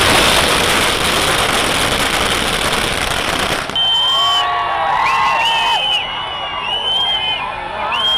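Fans celebrating the release of the film Bigil in Tamil Nadu set off firecrackers: a dense, loud crackling barrage for about four seconds, then high whistles and a lively crowd.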